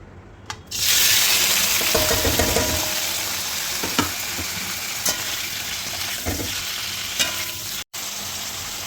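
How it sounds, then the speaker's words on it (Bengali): Paneer pieces fry in hot oil in a kadai: a loud, continuous close-up sizzle with occasional stirring clicks, and a momentary dropout near the end. "পনিরগুলো এখানে একটু লাল লাল করে ভেজে নেব"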